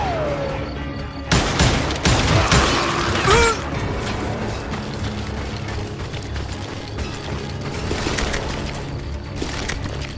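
Gunfire from the Western shooter Call of Juarez Gunslinger, with loud overlapping bursts and pops in a dense action-game mix that keeps up throughout.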